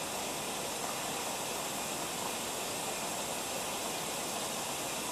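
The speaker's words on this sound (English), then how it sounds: "You can hear the dispenser filling." Water rushes steadily into the detergent dispenser of a Haier Hatrium HW100 10 kg washing machine, giving a constant, even hiss-like flow with no pauses or talking.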